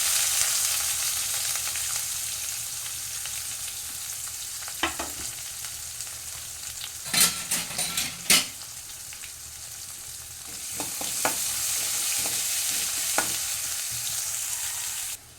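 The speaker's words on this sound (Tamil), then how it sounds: "கொஞ்சோண்டு பெரிய வெங்காயம் அரிஞ்சு வச்சுருக்கோம் அதை சேர்க்கணும்" Chopped onions fry in a pan for a fenugreek chutney, a steady sizzle running throughout while a spoon scrapes and stirs in several brief clattering bursts.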